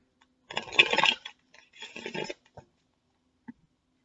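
Tarot cards are shuffled close up in two brisk riffling bursts, then a single soft tap as the deck settles, in an otherwise quiet room with no talking.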